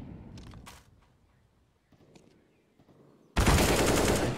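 Submachine gun fire rattles in Counter-Strike on the Inferno map: short bursts of close shots early on, a quieter stretch, then a loud sustained burst of rapid fire near the end.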